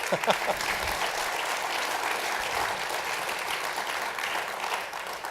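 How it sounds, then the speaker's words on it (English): Lecture audience applauding in a hall at the John M. Templeton, Jr. Lecture: a full, sustained round of clapping that holds steady and fairly loud from start to finish. "Another round of applause."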